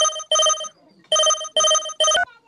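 A mobile phone rings loudly and close by, four bright electronic tone bursts in a repeating pattern with short gaps.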